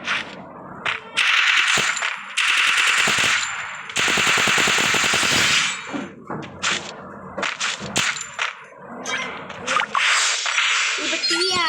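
An MP40 submachine gun fires in Free Fire, rapid bursts of loud clattering automatic shots mixed with metallic clinks and game effects, in several separated volleys.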